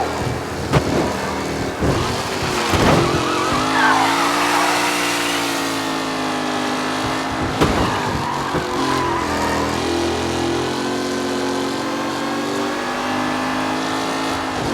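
Race cars in Mafia Definitive Edition drive loudly with close, roaring engines that rev and shift pitch and pass by, while tires screech and skid throughout.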